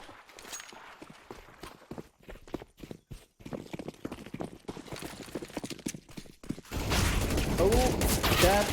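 Counter-Strike: Global Offensive match audio from the Ancient map during a tournament final: scattered gunfire, clanks and footsteps give way to a loud, dense grenade blast and crackling rattle of shots that fills the last seconds.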